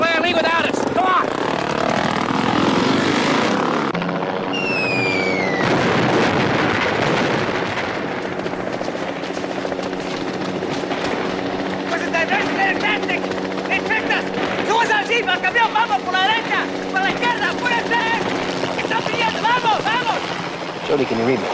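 A helicopter roars through a tense island rescue, its rotor and engine forming a loud, steady drone throughout while people shout over it.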